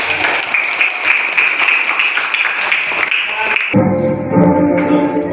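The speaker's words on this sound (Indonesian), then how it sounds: "Tepuk tangan." Applause from a classroom audience of teacher trainees in an industrial electronics session, a steady wash of clapping that stops abruptly, leaving voices and room noise.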